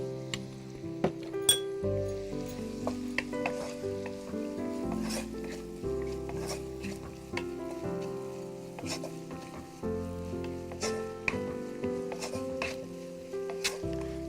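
Onions sizzle steadily in a pan with a pinch of salt, a continuous frying hiss with occasional clinks and stirring, no talk.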